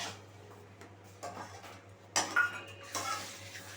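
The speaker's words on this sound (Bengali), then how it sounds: "টক দইটা দিয়ে আরও কিছুক্ষণ ভালোভাবে মিশিয়ে" A spoon stirs plain yogurt into soya chunks and spinach (soya palak) in a cooking pan, with faint scraping and clinks against the metal in a few uneven bursts over a low steady hum.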